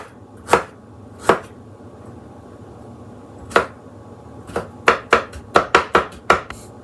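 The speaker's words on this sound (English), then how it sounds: "I've got a little knob of ginger. We're just gonna mince this up." A knob of ginger minced with a knife on a cutting board for radish kimchi: two spaced chops, a pause, then a quickening run of sharp, close knocks, each ringing out briefly.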